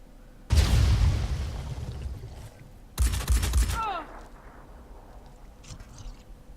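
Shotgun blasts in the tactical game Phoenix Point, two loud, close booming discharges about two seconds apart, each trailing off into a rumbling decay with faint whistling debris sounds afterward.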